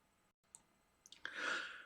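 A mouse clicks a few times in a quiet room to answer a Skype call, giving soft, close clicks that are followed by a brief electronic tone.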